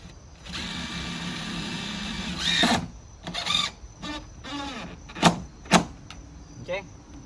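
A power drill drives screws into a vinyl window frame during a single-hung new-construction window install, with a whining motor run, several shorter bursts and sharp clicks, close and loud.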